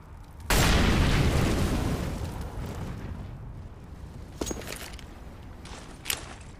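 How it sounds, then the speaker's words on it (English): An incendiary grenade in CS:GO on the Overpass map bursts with a loud, sudden boom that rolls into a long, fading roar of flames, with a couple of sharp, fainter crackles and pops near the end. "Throwing fire! Incendiary out!"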